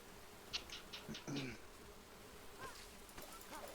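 Bees released in a multiplayer video game give a few short, thin buzzing bursts, faint and intermittent over quiet game background.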